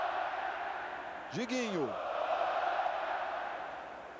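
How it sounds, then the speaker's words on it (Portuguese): Football stadium crowd at a 2006 Campeonato Carioca final between Botafogo and Madureira, a broad distant roar of chanting fans under a commentator's voice, with one short shouted call rising above it. "E a torcida solta o grito"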